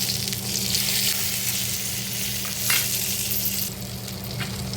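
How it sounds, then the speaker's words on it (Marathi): Capsicum being stirred with salt in a pan, a steady close sizzle and frying hiss running throughout with faint scraping of the stirring and no talk. "बरोबर मीठ सोडल्याच्यानंतर व्यवस्थित पुन्हा सगळं मिक्स करून घ्यायचं"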